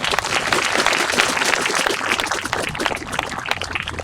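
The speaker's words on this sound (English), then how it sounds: "Please give them all a round of applause" A crowd applauds at an outdoor groundbreaking ceremony for a World War II memorial in Michigan, with dense, steady clapping running throughout.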